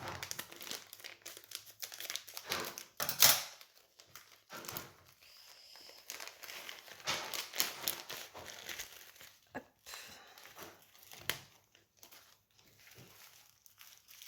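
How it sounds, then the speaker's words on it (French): A plastic pouch of diamond painting drills is handled and opened, giving close, irregular crinkling and crumpling with one sharp tearing burst, plus scattered taps and pauses in a quiet room. "Et on va ouvrir le deuxième pochon"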